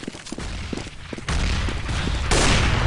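Grenades go off in a Counter-Strike match, loud booming bursts that step up in intensity at two points, each blast leaving a sustained wash of noise with scattered clicks between.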